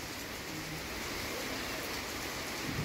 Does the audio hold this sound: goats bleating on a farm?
no